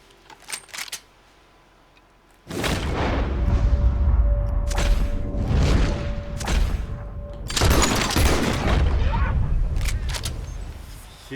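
Rifle fire with high velocity bullets in Red Dead Redemption 2, several loud booming shots with long rumbling tails that overlap one another, after a quiet start.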